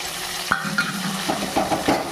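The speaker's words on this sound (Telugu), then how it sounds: "మంచిగా ఫ్రై చేసుకోవాలి." Lentils, mustard seeds, cumin and curry leaves frying in a pan for amaranth-leaf dal, a steady close sizzle broken by several sharp spoon scrapes and clinks against the pan.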